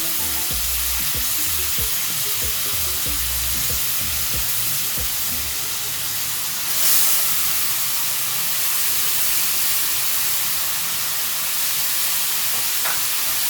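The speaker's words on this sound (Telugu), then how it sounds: "దీనిలో పచ్చిదనం పోయేంత వరకు 5 నిమిషాల పాటు ఇలా చక్కగా వేయించుకోవాలి" Grated pumpkin frying in a pan for sweet halwa, a steady close sizzle and hiss throughout, with faint stirring scrapes early on and a brief louder burst of sizzling midway.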